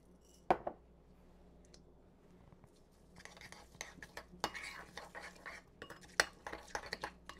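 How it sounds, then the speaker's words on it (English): A spoon mixing a couple of tablespoons of sour cream with homemade onion soup seasoning in a small dish, a quiet start giving way to busy clinks and scrapes against the bowl. "I'm just going to be mixing up just a couple tablespoons to give you an idea of what the dip looks like"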